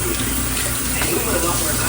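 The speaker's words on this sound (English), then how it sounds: "I'm running water, y'all. Washing dishes." Tap water runs steadily into a kitchen sink during dishwashing, a continuous close hiss and splash that fills the whole clip with a low rumble beneath it.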